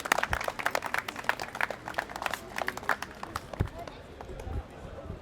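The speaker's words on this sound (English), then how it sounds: "I just want us to give ourselves a round of applause" A small group claps enthusiastically for a few seconds at Speakers' Corner, sharp close handclaps that fade into quieter shuffling near the end.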